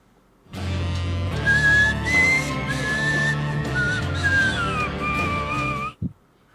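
A person whistles a wavering, sliding melody, clear and close, holding long notes for several seconds before stopping abruptly, followed by a brief knock.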